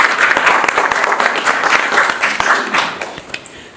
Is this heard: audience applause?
yes